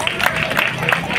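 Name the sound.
audience applause at an event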